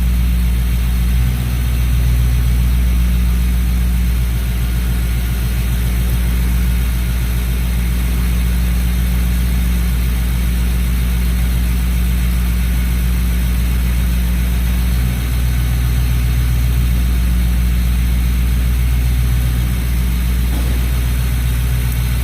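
A Lincoln Town Car's 4.6 V8 idles steadily during a fuel injection flush, with a continuous low, even engine rumble at close range and no talk.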